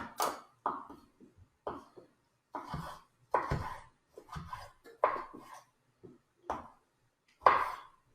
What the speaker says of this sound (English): We're going to core the tomato, and we're going to cut it into, it says, 1/4 inch diced.